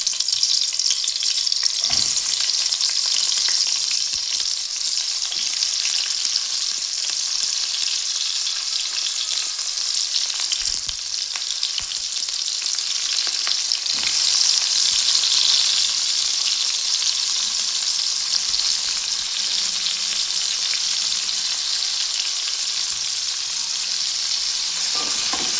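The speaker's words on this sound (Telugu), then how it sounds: "బ్రౌన్ కలర్ వచ్చేంత వరకు బాగా ఫ్రై చేసుకోవాలి." Onions frying in a hot kadai for a botti curry, a loud, steady close-up sizzle and crackle with occasional stirring scrapes, continuous for the whole stretch with no talking.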